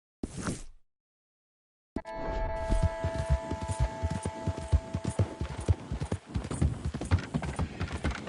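Horse hooves clip-clop at a steady walking rhythm in Red Dead Redemption 2, loud and close after a brief burst and a short silence, with a faint tonal hum running underneath.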